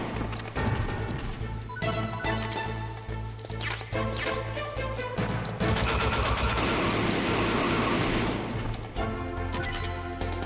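Gunfire in the video game Metal Gear Solid: dense, rapid bursts of shots and crashing impacts over a steady low game-music hum, loud and continuous throughout.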